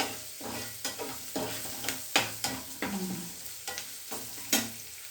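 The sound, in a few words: stirring turmeric into a frying pan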